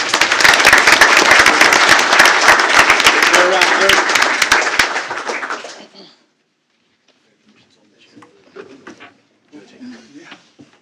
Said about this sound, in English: how about a big round of applause, Mr. Keith Isaacs?